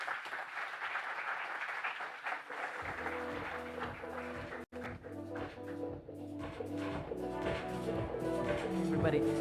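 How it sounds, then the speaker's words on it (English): Applause from the audience at a Google Cloud summit in India, a dense wash of clapping that continues as loud stage music with a steady beat swells beneath it. "Please give them a big round of applause, folks."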